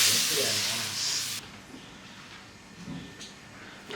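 Water poured into a hot pan of semolina halwa after the sugar sets off a loud, broad hiss that cuts off abruptly near the start, then fades into a low, steady sizzle with faint clatter.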